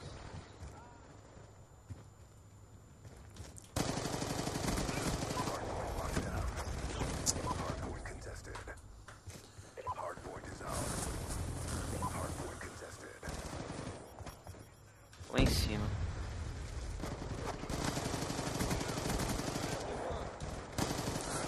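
Gunfire in the video game Black Ops 2, with bursts of rapid automatic shots and single cracks over game sounds, while players talk throughout.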